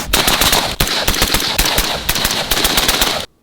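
A KAC M110 semi-automatic rifle chambered in 6.5 Creedmoor fires a rapid string of loud, close shots in quick succession, with a brief gap partway through, then stops abruptly.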